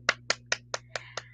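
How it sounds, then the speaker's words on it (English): A classroom cheers a student with seven crisp, evenly spaced hand claps in a quick steady rhythm over a low electrical hum, close and fairly quiet. "So let's give a clap to Cindy."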